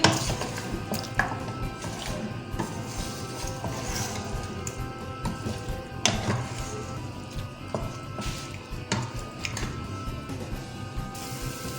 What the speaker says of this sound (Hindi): चिकन को हम 5 मिनट के लिए फ्राई करेंगे।